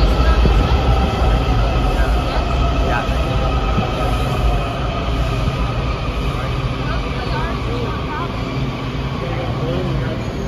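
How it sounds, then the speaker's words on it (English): Washington D.C. metro subway train riding, a steady loud rumble and rail roar with faint squeals and clatter filling the whole stretch. "We're on the metro system."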